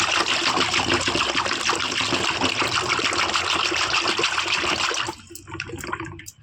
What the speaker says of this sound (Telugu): ఈ మజ్జిగ చేసుకున్నాం కదా ఇదంతా ఇందులో వేసేసుకోవాలి కొంచెం బాగా కలుపుకోండి